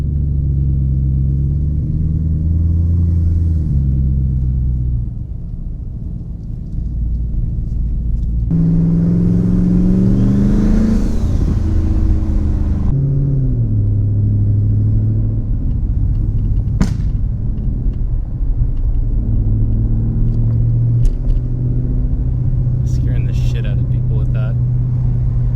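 A twin-turbo Mustang with its blow-off valve taped shut runs with a loud, steady, close engine rumble, swelling into a harder rev midway before settling back to a throaty idle, with speech over it.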